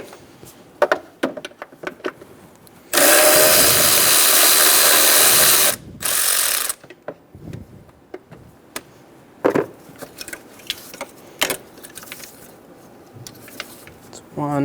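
A power tool drives out the 10mm bolts holding a bracket during a radiator replacement on a 2011-2014 Hyundai Sonata 2.4L four-cylinder: one loud, steady whir of about three seconds, then a short second burst, surrounded by scattered clicks and clanks of handling.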